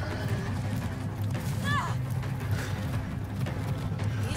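Horse hooves clip-clop steadily beneath a busy Far Cry 6 game soundscape, with a rumbling low background and a brief chirping sound midway.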